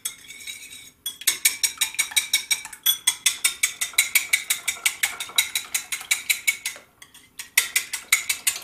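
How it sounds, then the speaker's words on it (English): Eggs are whisked in a bowl to set up a dredging station: a fast, steady run of close metallic taps and scrapes against the bowl, with brief pauses between bursts and no talking. "And we'll whisk them."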